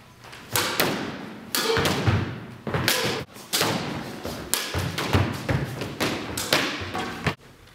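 A squash ball is struck repeatedly during a squash game, giving a series of sharp, close thuds and taps at an irregular rhythm, with no speech.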